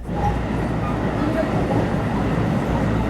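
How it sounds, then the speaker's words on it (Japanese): Inside a long JR Biwako Line local train on a Saturday afternoon, a steady low rumble of the running carriage fills the space, with faint rail rhythm and muffled cabin hum throughout. "土曜日の午後の琵琶湖線の普通列車、編成も長いですし座ってのんびりできました"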